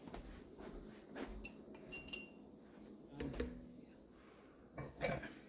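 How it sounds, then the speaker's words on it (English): Glass canning jars for grape jelly being lifted out and carried, giving scattered light clinks and knocks of glass and metal against a quiet kitchen background. "I'm going to go ahead and take our jars out and take them over"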